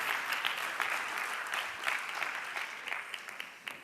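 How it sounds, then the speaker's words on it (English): Steady audience applause at a disability-inclusion conference session, dense clapping filling the hall at moderate distance, holding even before tapering slightly at the end. "a round of applause for our 4th batch of my appallingly handled questions"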